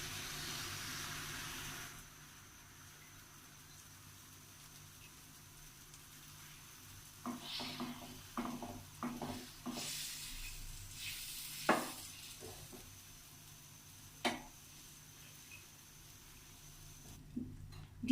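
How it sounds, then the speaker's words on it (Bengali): Beaten egg mixture hits melted butter in a saucepan for a cheese Spanish omelette, giving a soft, steady sizzle close by, punctuated by scattered clicks and scraping taps of a utensil. "আমি এর বাটারের উপরে ডিমের মিশ্রণটা দিয়ে দিচ্ছি।"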